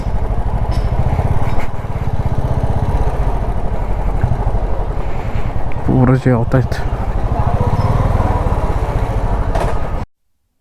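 The engine of a Honda Dio scooter runs with a steady, buzzing drone under close talk, then cuts off abruptly near the end.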